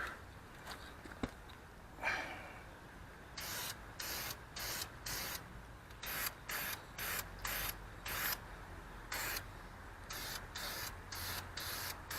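Short bursts of an aerosol spray can spray a second coat of blue paint onto rear brake calipers, hissing in a rapid irregular rhythm, close and fairly quiet.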